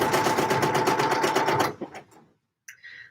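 A sewing machine runs a fast, pulsing stitch along a seam of a Sew Over It Eve dress, loud and close for about a second and a half, then stops, leaving faint handling noises.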